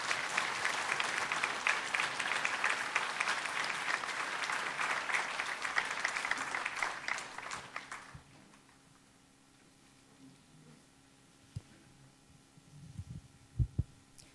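Applause welcoming a speaker at a book launch event for Roh Moo-hyun's "The Future of Progress," a dense burst of clapping for about eight seconds that then stops abruptly, leaving quiet room hum and a few faint thumps.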